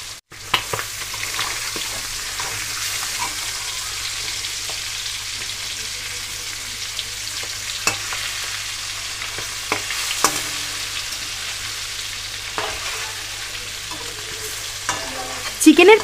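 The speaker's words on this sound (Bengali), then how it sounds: "এবার বেরেস্তা ভাজার এই তেলের মধ্যে আমি ম্যারিনেট করা মাংসগুলো দিয়ে ভেজে নেব।" Marinated chicken pieces fry in the oil left from frying sliced onions, giving a steady, moderately loud sizzle with occasional stirring clicks and pops and no talking.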